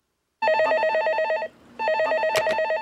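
A telephone rings in two loud bursts of electronic trilling with a short gap between them, close and clear with no voices.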